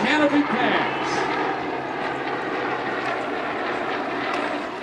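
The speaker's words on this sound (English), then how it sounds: "look as we get our 3 planes coming in" Three propeller aircraft of an air show team fly past in formation at the Courtland Air Show, a loud, steady engine drone that swells and holds while a commentator talks.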